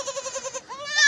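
Goats bleat on a small home goat farm: a run of short, evenly spaced nasal bleats close by, then a longer, rising cry that swells louder at the end.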